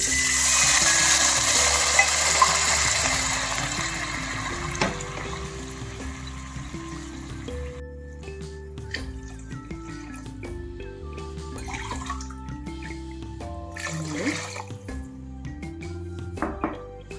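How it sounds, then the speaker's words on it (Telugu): Four glasses of water pour steadily into a pan of sizzling tempering for rice rava upma, a loud, continuous rushing splash lasting several seconds, then quieter intermittent trickles and drips. "నాలుగు గ్లాసులు వాటర్ వేసుకోవాలి"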